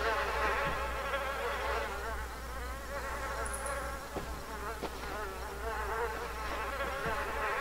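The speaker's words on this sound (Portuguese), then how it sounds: "Tô ouvindo mosquito." Mosquito buzzing in the survival video game The Isle, a wavering high insect drone that runs steadily for several seconds, close and fairly loud, with faint low rumbles and a few soft clicks underneath.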